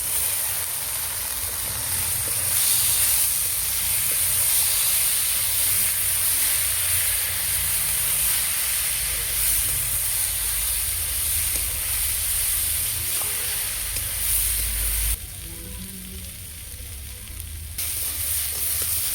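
Gobindobhog rice and dal sautéing with spices in a hot pan for a prawn and egg khichuri give off a steady, continuous sizzle and hiss that stays loud and even throughout, with no voices.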